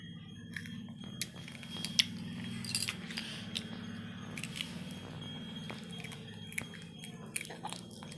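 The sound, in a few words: child chewing while eating food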